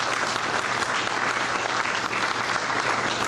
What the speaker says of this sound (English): Please give them a round of applause because they work really hard for us.